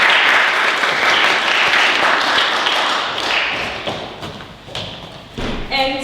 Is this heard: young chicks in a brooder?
no